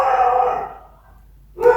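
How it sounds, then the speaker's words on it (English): A dog lets out a loud, drawn-out howling bark, falls silent briefly, then starts another howl close by. "That was my dog."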